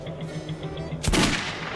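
Single loud gunshot in the video game Metro, cracking sharply partway through after a quieter stretch of low background hum.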